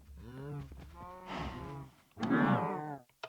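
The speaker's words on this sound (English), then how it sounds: "Cows. You can milk cows in this game." A cow in Minecraft lets out two long, low moos in quick succession, close and clear. A short faint sound follows at the very end.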